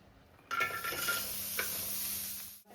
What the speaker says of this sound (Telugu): పచ్చి ఆనియన్స్ని ఫ్రై చేసుకుందాం